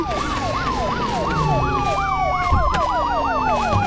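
Police car siren in the Indian Bike Driving 3D video game: a loud, continuous wailing siren rising and falling rapidly, layered with a second sliding siren tone and steady game engine noise.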